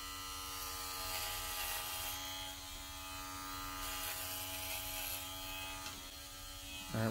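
Conair Metalcraft electric hair clippers cutting hair with a 1-inch guard attached, a steady close buzzing whir with a faint mechanical ratchet edge that runs evenly throughout, ending in a brief louder knock.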